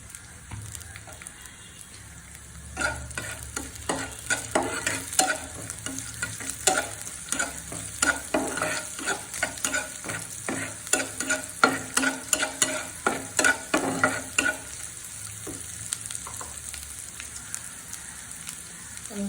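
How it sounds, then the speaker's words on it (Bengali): Chopped garlic and fried chillies for achari dal sizzle in a pan, with brisk, clattering spoon strokes that grow busier and louder after a quiet start and then ease off near the end, close up and without speech. "দিয়ে দিচ্ছি রসুন কুচি আমি মরিচগুলা যে ভেজে রাখছিলাম সেটা দিয়ে দিলাম"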